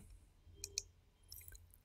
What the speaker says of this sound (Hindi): अगर आप राइट क्लिक करें